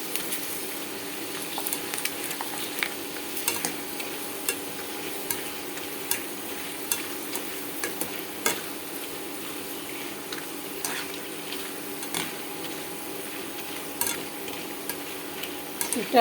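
A batch of chips bubbles and crackles in hot oil, a continuous close sizzle punctuated by occasional light clicks and stirring taps, with no voices over it.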